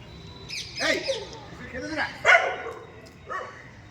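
Several dogs being fed outdoors give a few yips and barks, some of them whimpering, mixed in with people talking nearby.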